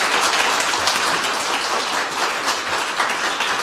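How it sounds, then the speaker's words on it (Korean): Sustained applause from a lecture audience at a civic democracy class in Korea, dense crowd clapping, steady and fairly loud throughout, no voices over it. "우리 수고해주신 장수영 구미시장님께 다시 한번 뜨거운 박수 부탁드리겠습니다"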